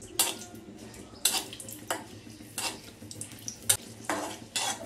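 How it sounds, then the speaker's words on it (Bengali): Dried red chillies fry in hot mustard oil with a faint sizzle beneath, while a utensil clinks and scrapes against the pan at irregular intervals, close and fairly loud. "আর শুকনো মরিচগুলো ভেজে তুলে নিব"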